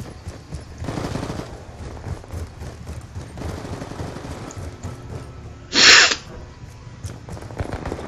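Gunfire in a shooting video game: scattered bursts of game sound with one loud, sharp blast in the middle, heard against a low, busy background.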